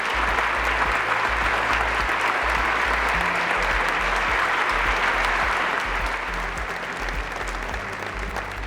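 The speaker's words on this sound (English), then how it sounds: "please stand up and let's give you a round of applause" A banquet audience at an awards dinner gives a sustained, dense round of applause, loud and even throughout, fading slightly toward the end with no voices standing out.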